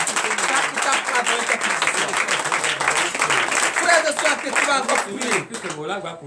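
Congregation at a night deliverance and prophecy church service clapping and cheering in acclaim, a loud, busy mix of rhythmic claps and raised voices that carries for several seconds before easing.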